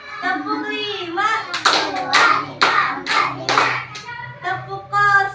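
Several sharp hand claps from children playing a clapping game ring out close by, set among children's chanting voices.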